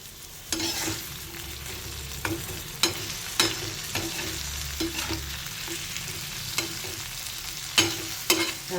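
Kaju chicken masala with cashews sautéing in a pan, a continuous sizzle broken by repeated sharp scrapes and knocks of a stirring spoon at an irregular pace, close up.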